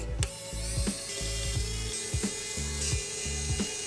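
A compact 5-volt 30 mm fan is fitted onto a DC-DC converter, giving a series of regular clicking and ratcheting mechanical snaps over a steady whirring hum, close and fairly loud.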